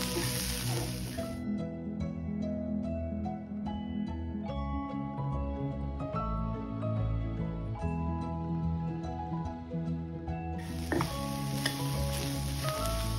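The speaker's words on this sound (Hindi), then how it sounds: "अभी हम डाल के अब 1 से 2 मिनट हम इसे अच्छे से भून लेंगे तो मसाले सारे भून जाएंगे अच्छे से" Spices roast in hot oil for barley porridge, giving a steady, dense sizzle with scattered crackles and pops. A louder hiss rises at the start and again at the end, with stirring noises mixed into the frying.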